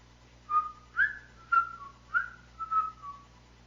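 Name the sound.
person whistling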